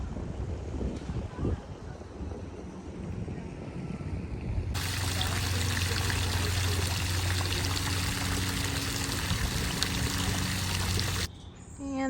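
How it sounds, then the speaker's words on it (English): A small waterfall in a park in Ireland makes a steady rushing pour. It starts faint under wind and outdoor noise, then swells to a loud, constant close-up torrent before cutting off. "And this is supposed to be a waterfall."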